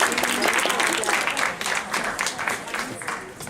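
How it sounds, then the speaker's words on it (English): A congregation gives a round of applause after a speaker at a church gathering. Dense, continuous clapping runs throughout, and voices murmur beneath it. "One more round of applause for Ardell."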